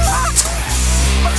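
Canada geese honking during a goose hunt on Prince Edward Island: loud, close, continuous honking and clucking from a flock that stays steady through the whole stretch.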